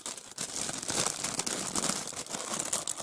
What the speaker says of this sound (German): Wo geht die Tüte auf?